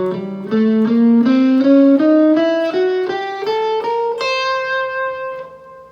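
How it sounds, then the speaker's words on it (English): Guitar plays a half-whole diminished scale one note at a time, stepping steadily upward in clean sustained tones, close and clear with no talking. "He's working on the half-whole diminished scale using this scale shape."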